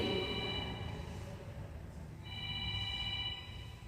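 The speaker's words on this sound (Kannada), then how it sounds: "ಯಾರ್ದು ಇದು ಫೋನು ಕಟ್ ಮಾಡಿ" A phone rings during a group breathing and stretching session, its repeating electronic tone fairly faint in the background, pausing briefly before ringing again.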